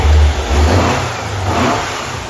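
An air-cooled VW 1641 engine on a dyno, running a muffler, revs up loudly and then settles into a lower, steady throaty drone, close by and heard alone.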